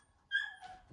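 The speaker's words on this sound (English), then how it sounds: "That's my dog." A dog whimpers once, a short high-pitched whine that slides downward and fades within about half a second, heard close and fairly quiet with no talk over it.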